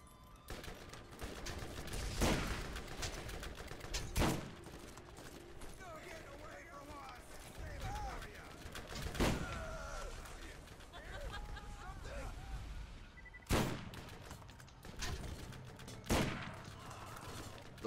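Rifle gunfire in the shooter game Borderlands, sharp single shots spaced a couple of seconds apart, loud and close, over game ambience and someone talking.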